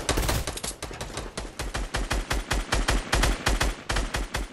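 Rapid automatic gunfire in the video game Fortnite, dense bursts of loud crackling shots fired in quick succession with a brief pause near the middle, no voices.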